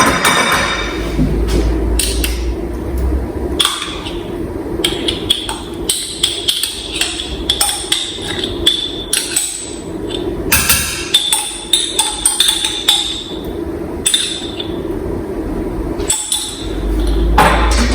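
Pasta alla genovese being stirred with pesto alla genovese in a hot pot, a utensil clinking and knocking against the pot in a steady close run of sharp metallic taps and dull thuds, with no talk.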